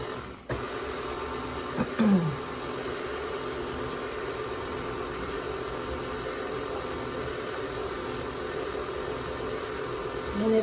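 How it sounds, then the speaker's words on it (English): A stand mixer with a whisk attachment runs slowly through powdered sugar for a Norwegian kransekake, giving a steady, continuous motor whir with mild vibration throughout, close by and without speech. "So I've used the attachment for whisking, and I'm going to begin slowly"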